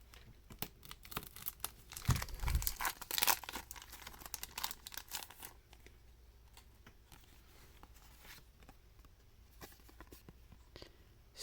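Toy car blister card packaging being opened by hand, with bursts of crinkling, tearing plastic and cardboard that peak early and then thin out into scattered faint rustles, close by and without speech.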